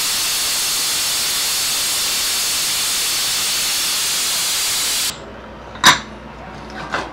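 A pressure cooker holding tomato, carrot and onion for soup releases steam in a loud, steady hiss for about five seconds, then cuts off abruptly, leaving a couple of faint clanks in the quiet.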